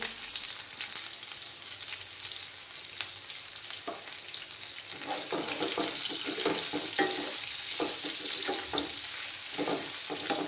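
Sliced onions fry in a pan for a Bengali-style mutton masala, with a soft, steady sizzle and occasional stirring scrapes that grow busier partway through.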